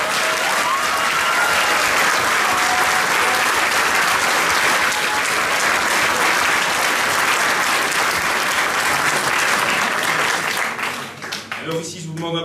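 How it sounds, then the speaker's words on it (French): An audience gives the show's crew a long, loud round of applause. Dense clapping holds steady for about ten seconds, then thins and fades out, with some voices underneath. "On peut les applaudir."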